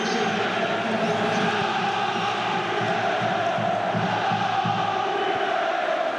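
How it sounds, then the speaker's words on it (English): Nottingham Forest fans packed into one end of Swansea's Liberty Stadium roar and chant during a play-off semi-final, a loud, dense, sustained crowd din with rhythmic chanting pulses and no break. "suddenly all the noise in this record Liberty Stadium crowd coming from the little wedge of red at one end of it"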